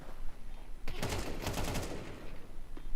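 Rapid gunfire bursts in a Counter-Strike esports LAN playoff match sound in a dense cluster of shots near the middle, with a single sharp report on either side, over a low background hum.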